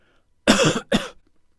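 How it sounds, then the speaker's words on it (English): Two loud, harsh coughs close up, one right after the other, in an otherwise quiet room. "use trimming to remove this cough from the recording"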